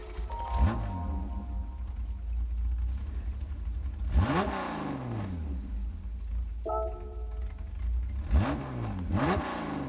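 A 1964 Porsche Carrera GTS (904) racing engine in Gran Turismo 7 revs in repeated bursts at startup, each rising sharply then falling, with a brief electronic tone partway through; loud and mechanical, no talking.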